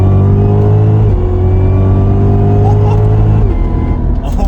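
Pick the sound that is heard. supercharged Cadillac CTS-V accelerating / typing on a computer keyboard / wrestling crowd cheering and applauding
supercharged Cadillac CTS-V accelerating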